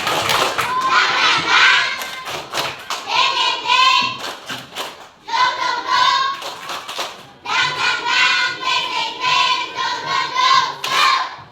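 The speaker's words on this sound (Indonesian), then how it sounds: "mari kita tepuk semangat dulu." A group of primary school children perform a rhythmic clapping chant in a classroom, shouting in unison in three bursts with sharp patterned claps and short pauses between them.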